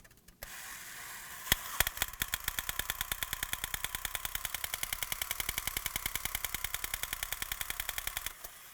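Attacking Martian toy robot firing its chest guns, a rapid, even clatter of mechanical clicks and bangs repeating steadily for several seconds over a faint whirring motor, close and fairly quiet.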